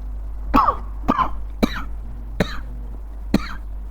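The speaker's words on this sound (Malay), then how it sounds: "Batuk tu." A man coughs five times in a row during an evening religious lecture, the sharp, throaty bursts spaced about a second apart over a low steady hum.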